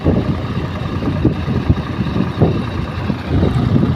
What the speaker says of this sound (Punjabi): ਇਹ ਜਾਈ ਜਾਂਦੇ ਟਰੈਕਟਰ ਤੇ